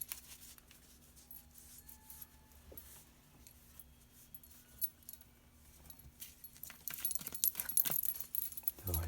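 Tarot cards shuffled by hand in a quiet room: soft, sparse rustles and light taps that build into a busier, louder flurry of card noise near the end.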